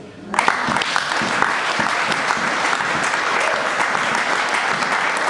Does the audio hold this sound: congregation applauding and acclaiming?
yes